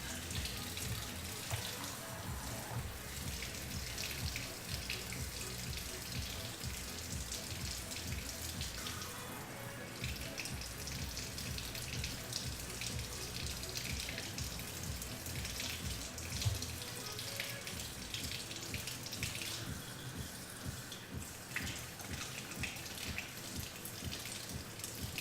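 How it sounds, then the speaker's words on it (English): Tap water runs steadily into a container for bread dough, a continuous close splashing hiss that shifts in tone a couple of times as the flow changes, with no speech over it. "the water will be measured out to about 90 degrees Fahrenheit"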